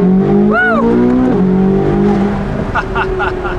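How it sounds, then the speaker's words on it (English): A C8 Corvette Z06 with a titanium exhaust and stock downpipes on overrun, loud and close, with a high engine note falling away as the throttle lifts, then pops and crackles, under brief speech. "Listen to the overrun."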